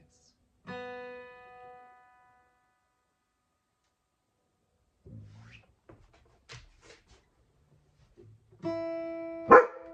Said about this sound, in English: Too close to the mic to be barking like that.